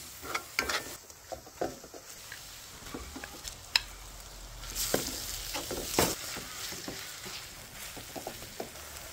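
Garlic and onions frying in a pan for sautéed shrimp paste, a close sizzle with repeated clinks and scrapes of a spatula stirring against the pan in irregular bursts.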